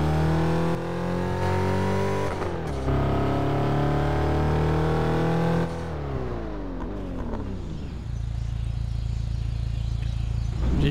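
A car engine in Test Drive Unlimited 2 drones and accelerates in steady, rising pulls with clear gear shifts. The revving is close, loud and unbroken, with a whiny high-pitched buzz and no talking.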